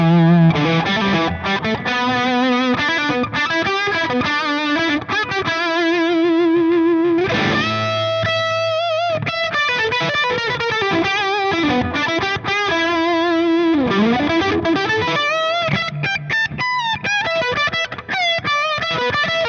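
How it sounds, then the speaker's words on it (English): High-gain electric guitar through a Friedman Dirty Shirley Mini amp, playing saturated, singing lead rock-blues lines with sustained notes and bends, loud and continuous with no talking. "Pushing the gain and the saturation even more, I could get some nice singing lead rock blues tones."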